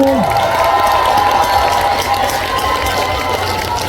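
A cold outdoor festival audience applauds and cheers for a singer, a loud, sustained burst of crowd clapping with a brief low tone at the start and no speech during it.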